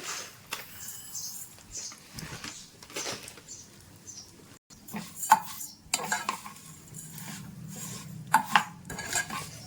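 Vermicelli is stirred and fried in ghee in a pan on a low to medium flame. A spoon scrapes and clinks against the pan in irregular bursts over a faint sizzle, close by, with no talking.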